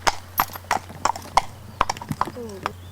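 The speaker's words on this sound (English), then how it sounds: "This is a 6-year-old mare by Godson de Riverdy." Hooves of a six-year-old show-jumping mare clop in a steady rhythm of close, sharp footfalls, with a brief whinny-like tone near the end and no talk over it.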